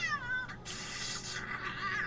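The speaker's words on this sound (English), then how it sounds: "And that cat is ripping shit up." A cat in the video game Sims 2 lets out a couple of drawn-out, wavering meows, moderately loud over a busy background of game sound.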